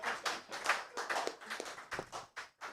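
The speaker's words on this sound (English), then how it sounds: "Another round of applause for Father." Audience at a partners' forum claps for a speaker, a round of sparse, uneven hand claps from a small group, fairly close and moderately loud, with faint voices mixed in.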